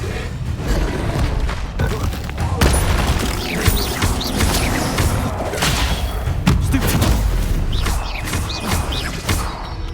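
An Incendio fire spell is cast in the Hogwarts Legacy video game amid combat. Repeated bursts, booms and crashing thuds come in quick, irregular succession at loud volume, with a voice heard at times.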